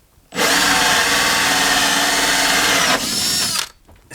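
A power drill set to speed 2 runs loud and steady for about three seconds, its whine shifting slightly near the end before it cuts off abruptly.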